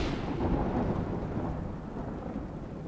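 Thunder rumbles low and heavy during a rainstorm in Bangka, a rolling boom that slowly fades over a few seconds against the hiss of falling rain.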